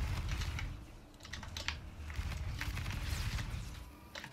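Computer keyboard keys, the arrow keys, are tapped and pressed during PC game play, giving quick quiet irregular clicks and clusters of keystrokes, close and faint.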